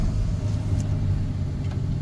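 A 1988 BMW 325ix E30 engine idles in neutral, a steady, even low rumble heard up close with no revving and no talk.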